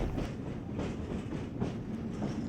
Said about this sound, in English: now I'm on my way to get back on the train